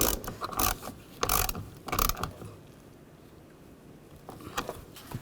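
Ratchet clicking in short bursts as a nut is snugged down on the camshaft position sensor cable of a 2009-17 Chevy Traverse, with repeated close mechanical pawl clicks separated by quiet pauses, no talking.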